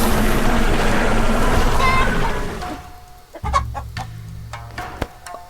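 Clucking from a zombie chicken-man enemy in a video game, loud and dense at first, then giving way to sparse, sharp game effects and short bursts near the end.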